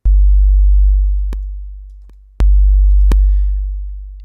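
A deep sine-wave sub bass note sounds twice, each onset starting with a sharp click before the tone decays slowly.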